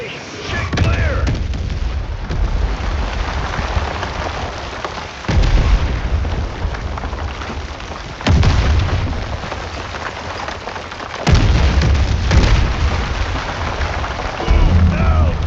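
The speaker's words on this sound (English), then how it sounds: "Incoming artillery!" Incoming artillery in Battlefield 6 on a rock map, with four heavy booming impacts spaced a few seconds apart over a constant rain-like rumble of battle noise and brief shouted voices.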